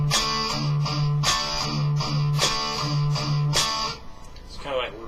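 Electric guitar strikes a chord followed by two short palm-muted chugs, repeating in a steady rhythm across several bars, loud and close with no talking.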